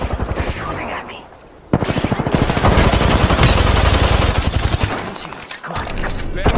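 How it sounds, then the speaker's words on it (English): Rapid automatic gunfire in a shooter video game, dense bursts of shots rattling loudly and nearly continuously across the clip, with a faint voice briefly underneath. "They're shooting at me."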